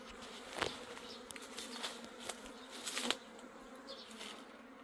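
A swarm of Korean native honeybees moves into a hive, giving a faint, steady buzzing drone outdoors with a few sharp clicks and taps, and no talk.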